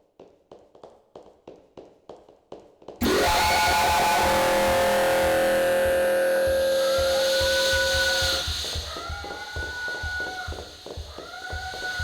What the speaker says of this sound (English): The sounds of the drill whirring and the strange wailing of the killer fill the player with panic.